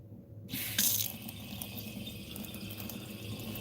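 Water runs steadily from a faucet, starting abruptly with a splashy burst and then continuing as an even, close rush.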